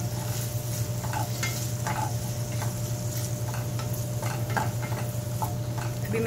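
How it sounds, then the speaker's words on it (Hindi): Fresh peas sautéing in a pan with vegetables for pulao: a steady low sizzle with a constant hum, broken by soft scattered clicks of a spoon stirring, no voices. "इसको भी जरा सा सॉटे कर लेंगे हम।"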